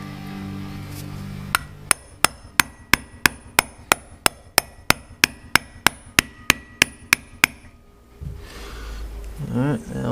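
Metal hammer blows drive a bearing into a GoPed rear wheel, about eighteen sharp, evenly spaced strikes in a steady rhythm, loud and close, followed by a pause and someone speaking.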